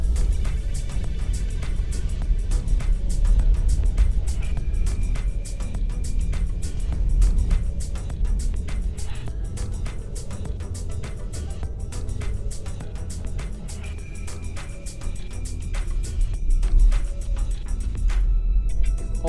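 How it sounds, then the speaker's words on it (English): A VW ID.3 electric car drives along a gravel forest road, with a steady low rumble of tyres and road noise that continues throughout, no speech over it. "I would not drive here during the summer because this is a gravel road"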